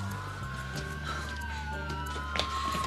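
Ambulance siren as paramedics arrive: a faint two-tone wail sliding slowly over a steady hum of background noise, muffled and distant.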